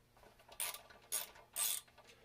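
A hand ratchet loosens 6mm brake rotor bolts on a 2000 Yamaha 1600 motorcycle, giving three short, close clicking bursts spaced about half a second apart.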